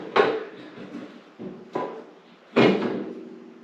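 The glass door of a wood burner stove is fitted back on with several close, hollow clunks and knocks spaced over a few seconds.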